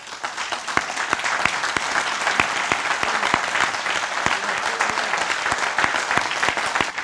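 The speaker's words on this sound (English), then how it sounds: "the Korean War veterans, would you please stand if you can for a round of applause?" An audience at a Korean War memorial service claps for veterans, sustained steady applause with many hands close by and a few crisp individual claps standing out, with no talking.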